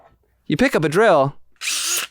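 A person vocally imitates a power drill, with a rising, wavering whirring voice followed by a short, harsh buzzing burst, loud and close.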